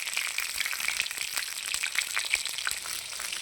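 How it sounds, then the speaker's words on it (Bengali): Eggplant slices fry in a pan, their second side browning in hot oil with a steady close sizzle and crackle, spattering lightly and continuously with no voices. "আর এক পিঠ ভালো করে ভেজে নেব।"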